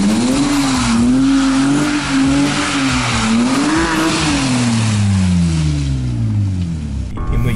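BMW E30 drift car on a winter road, its engine loud and close, revving up and down in waves before a long falling pitch as it slows, with no talking.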